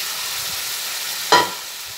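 Potatoes, tomato and spices with water in a pan, a soft continuous sizzle with one brief scrape or clink of stirring midway, no talk.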